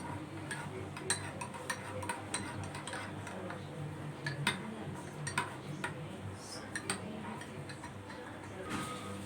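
A spoon ticks and clinks steadily against a bowl while custard powder is stirred into milk, a quick, irregular run of light metallic taps that continues for several seconds.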